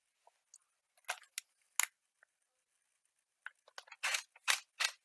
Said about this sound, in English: take out all these screws